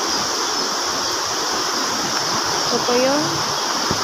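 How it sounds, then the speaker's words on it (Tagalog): Floodwater from Typhoon Agaton rushes beside a house as a steady, broad roar of moving water, with a person speaking briefly over it. "sobrang baha po dito sa gilid ng bahay namin"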